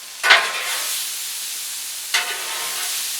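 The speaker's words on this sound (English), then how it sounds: "Now I'm going to mix my veggies" Vegetables with tomato stirred on a hot fajita griddle, two sharp scraping stirs followed by a steady close sizzle that hisses on between them.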